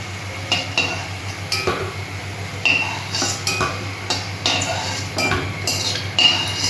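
Metal utensils clink and scrape repeatedly against a pan as fried jackfruit kofta is lifted out of the oil, close and fairly loud, with a faint sizzle underneath.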